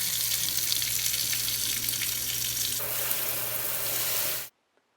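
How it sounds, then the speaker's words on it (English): Water runs steadily from a repaired Kohler Carmichael kitchen faucet into a sink, a constant close splashing hiss that cuts off abruptly near the end. "hardly any water was coming out of the faucet"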